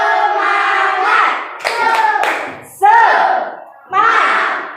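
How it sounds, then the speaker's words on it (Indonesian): A group, likely children in a social-emotional learning class, claps a rhythmic spirit clap in bursts with loud chanting voices, the claps sharp and close amid the shouting. "Tepuk semangat."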